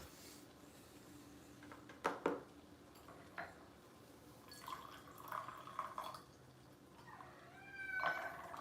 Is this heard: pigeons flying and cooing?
no